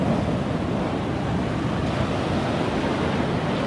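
Ocean surf on a beach roars in a steady, broad wash, loud and continuous, mixed with wind buffeting the microphone and no voices.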